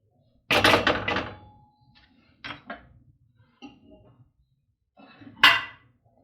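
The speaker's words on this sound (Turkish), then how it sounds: "Kapağını kapatıp pişmeye bırakıyorum." A metal lid clanks onto a pot of bulgur pilaf on the stove, one sharp rattling clatter followed by a few lighter knocks and a final clink.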